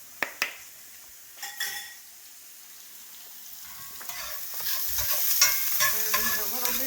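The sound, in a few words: stirring scrambled eggs frying in a pan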